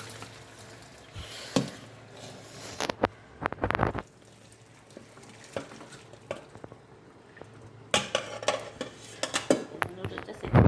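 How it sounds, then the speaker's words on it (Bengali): Noodles stir-fried in a pan with onion, green chilli, long beans and potato, heard as metal utensil scrapes, clanks and intermittent sizzling taps against the pan, close and uneven. "নুডলসটা সেকে নিই।"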